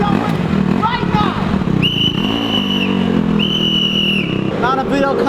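A coach's whistle sounds two long, steady blasts, each lasting about a second, with a short gap between them, over a noisy background of voices.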